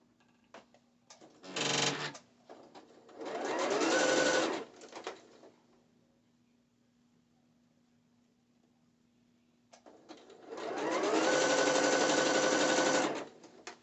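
A sewing machine stitches the yoke of rave shorts in two bursts: a brief run, then a longer steady whir after a quiet pause, close and clear with faint handling noises between.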